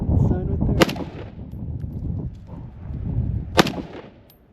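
A SCAR Heavy rifle fired outdoors at a target about 30 yards away, two loud sharp gunshots a few seconds apart, each with a booming tail, over a steady background rumble.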